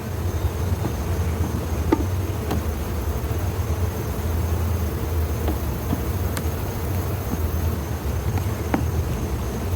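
Honeybees from a healthy nuc hive in an apiary make a loud, dense, continuous buzzing drone, with occasional individual bees passing close by.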